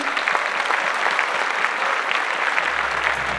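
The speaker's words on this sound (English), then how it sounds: "let's please give them a huge round of applause" Audience applause for contest finalists at a Femina pageant event: dense, steady clapping from a large crowd, loud and continuous for the whole stretch without pause.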